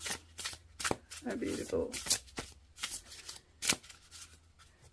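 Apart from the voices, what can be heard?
shuffling oracle cards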